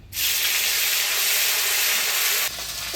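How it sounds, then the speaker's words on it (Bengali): Ground spice paste sizzles hard in hot oil tempered with dried red chillies, whole cumin and bay leaf beside a fish head, a loud steady hiss that cuts down sharply near the end. "ফোড়ন তেলে বাটা মশলাটা একটু ভাজা ভাজা করে নিলাম"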